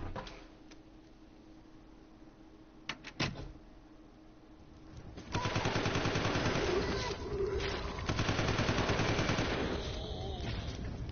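Machine gun fire in the video game Resident Evil 0 HD, a few isolated shots followed by long sustained rapid automatic bursts, fairly quiet, with no talk.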